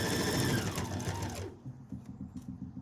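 A sewing machine stitches fabric for a fall pillow. It runs loud and steady for about a second and a half, then drops to quieter, uneven mechanical whirring and ticking.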